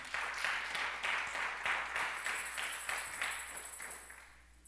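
A church congregation claps in a steady rhythmic beat, each clap crisp and evenly spaced, gradually fading, with a faint high ringing tone entering midway.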